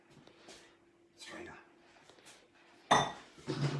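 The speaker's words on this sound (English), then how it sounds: "I now get my strainer." Metal cocktail strainer clinking against a glass during cocktail making, a few sharp close clinks near the end after quiet handling noises, with someone talking.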